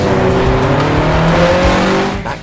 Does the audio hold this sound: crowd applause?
no